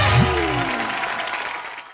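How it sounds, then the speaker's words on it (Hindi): Studio audience applause on a TV comedy show, a loud dense clapping wash that starts over a brief swooping musical tone and gradually tapers off over two seconds. "जोरदार तालियों से स्वागत कीजिए"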